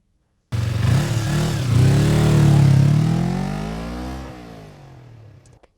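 A motorcycle engine revs up, its pitch rising and then falling as it pulls past nearby, loud and continuous for about five seconds before fading out.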